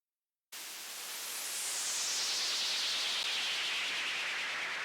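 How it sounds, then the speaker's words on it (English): A synthesized noise impact from Serum's noise oscillator, low-pass filtered with an LFO-swept cutoff, enters abruptly after a short silence as a steady hiss that slowly darkens and dulls, faint and alone. "We have this impact, which is made in Serum. The noise oscillator is active, and there's a low pass filter with its cutoff modulated by LFOs 1 and 2."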